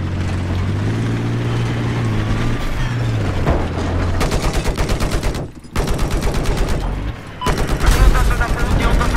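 SAR-21 rifle in Battlefield 4 firing in rapid automatic bursts, sharp rattling shots in two long strings separated by a brief pause, loud and close over a vehicle's engine drone.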